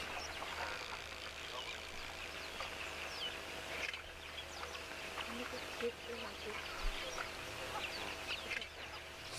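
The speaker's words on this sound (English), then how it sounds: "You can hear the crow squawking in the background." Harsh crow squawks repeat at a distance over a constant outdoor hum and rustle beside the Okukuyu waterhole.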